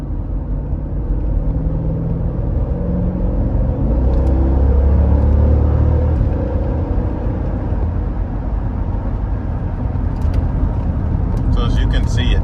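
A 2017 Jeep Grand Cherokee SRT accelerating hard, its engine a deep, loud rumble heard from inside the cabin, pitch climbing steadily through the run, with a person talking over it.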